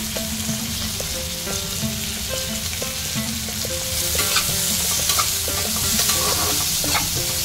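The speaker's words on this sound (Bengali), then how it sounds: "উপর থেকে আমি টমেটো কুচি দিয়ে দিচ্ছি, সেটাও ভেজে নিতে হবে" Chopped tomatoes fry in butter for Bhutanese ema datshi, a continuous close sizzle with repeated scraping stirs of a spatula against the pan that grow busier midway.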